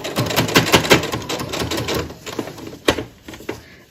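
Sewing machine running a back stitch, a quick rhythmic burst of mechanical clatter that pauses, then resumes with a few sharper clicks and thumps, close and fairly loud.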